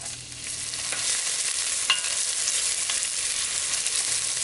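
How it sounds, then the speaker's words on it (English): Shallots fry in a little olive oil in a pan, giving a steady, close hiss of sizzling with a few soft clicks of stirring, no voices. "I'm just gonna go in with a little bit of olive oil so that everything doesn't stick. Just a little bit. And I'm gonna go right in with my shallots."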